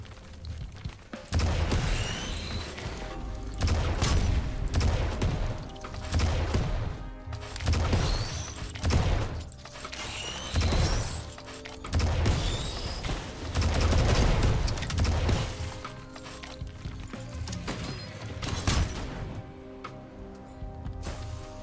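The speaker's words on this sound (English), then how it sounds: "God, the rocket jump is actually so much fun." Repeated rocket jumps in the video game Risk of Rain 2, a steady series of loud explosive bursts and thumps over a dense, busy game soundscape, with no talk.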